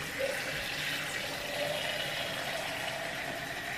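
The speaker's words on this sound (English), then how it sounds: "I'm just gonna add a cup of water" A cup of water pours onto coconut pieces in a blender jar, producing a steady, broad rushing splash that runs continuously at moderate loudness without any speech.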